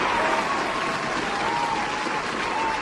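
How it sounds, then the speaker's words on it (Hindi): Loud applause played during a Hindi radio show, a dense steady wash of clapping lasting a few seconds and fading at the end. "लेकिन सबसे पहले आप लोगों के लिए जोरदार तालियां"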